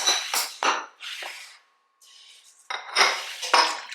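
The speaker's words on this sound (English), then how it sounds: "Just give that a quick stir." A metal spoon scrapes and clinks around a cooking pot as a seasoned recipe with salt and pepper is stirred, several brisk close strokes with a short pause in the middle.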